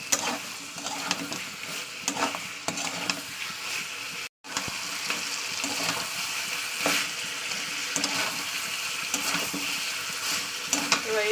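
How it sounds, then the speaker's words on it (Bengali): Meat is stir-fried dry in a pan in a home kitchen, with continuous loud sizzling and frying hiss broken by the scrape and clatter of a stirring spoon, close and steady throughout with one brief cut to silence. "এবার আমি ভালো করে এটা কষিয়ে নেবো একদম ড্রাই শুকনো কষা হবে"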